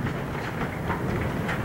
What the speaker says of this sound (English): So we got big hail falling now.